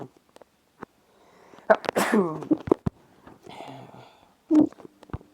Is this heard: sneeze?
yes